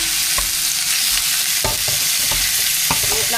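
Pork sautéing in a pan, with a steady loud sizzle and intermittent scraping knocks of a stirring utensil, close by and with no talk.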